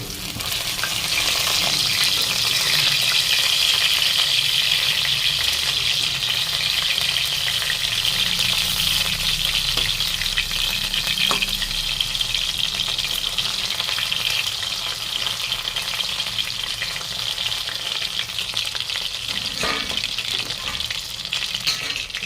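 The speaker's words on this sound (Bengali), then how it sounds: "সবগুলো ডাল বড়া এভাবে ভেজে নেব" Masoor dal and potato fritters deep-frying in a covered pan of oil, a loud, continuous close sizzle with a few scattered pops and crackles over a long stretch.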